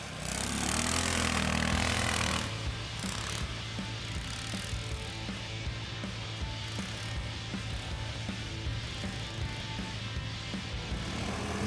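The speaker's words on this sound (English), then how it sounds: "This machine is called Leader Delta with 8 HP engine." A Leader Delta motorsled with an 8 HP engine runs with a steady droning hum; it is louder and rougher for the first two seconds, then settles into an even, moderately loud drone.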